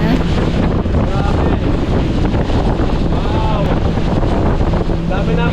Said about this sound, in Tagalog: Nawala daw yung forma sa lakas ng hangin.